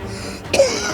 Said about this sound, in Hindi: बाबा को खांसी आ रही है